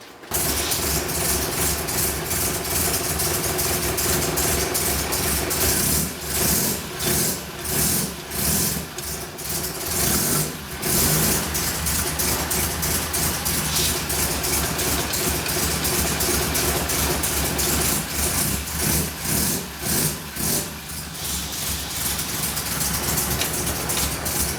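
A Saab Sonett engine runs continuously with a rough, rumbling idle close by, its tone swelling and dipping as gears are tried, with mechanical clunks from the shifter.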